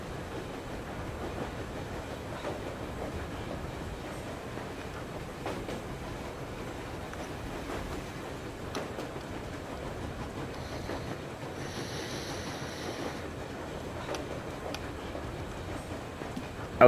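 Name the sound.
locomotive train running in video game Metro Exodus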